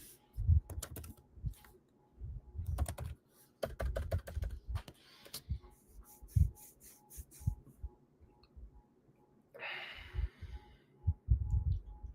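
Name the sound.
typing on a computer keyboard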